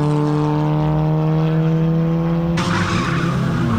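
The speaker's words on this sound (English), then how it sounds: "And more tyre squeal" Ford Fiesta Zetec race car at Snetterton in a 2000 championship round, with a loud, sustained, tonal tyre squeal that gives way to a broader skidding rush toward the end.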